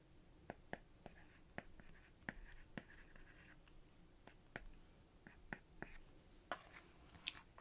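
Stylus drawing on a tablet screen: quiet, close scratchy taps and short strokes in irregular bursts, soft and intimate with no talking.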